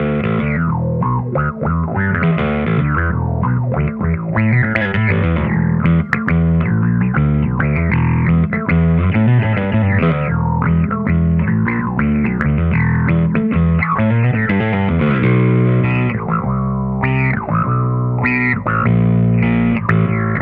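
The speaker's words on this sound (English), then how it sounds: "I'm just going to throw a little envelope filter in just because." An Epiphone Embassy Pro electric bass plays a busy, funky line through a quacky, sweeping envelope filter pedal, loud and continuous with no talking.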